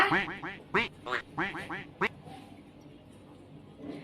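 A duck quacks in a quick series of loud, nasal calls, several in a row, followed by a quieter stretch of background noise.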